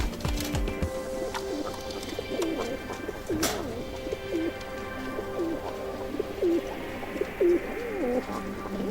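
Frill pigeons, including classic blondenette frills, cooing repeatedly in soft rhythmic bursts at close range, several birds overlapping over faint background hum, no talking.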